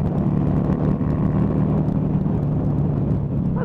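Buell XB9SX motorcycle being ridden, its engine a steady loud rumble with wind buffeting the microphone throughout, no pauses or gear changes standing out.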